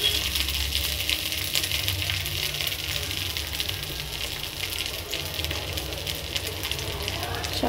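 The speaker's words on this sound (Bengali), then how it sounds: "তো এবার আমি চাউগুলোকে দিয়ে দিচ্ছি।" Chow mein noodles drop into a pan of fried potato and green chilli cooked with turmeric and oil, giving a steady loud sizzle and crackle of frying throughout.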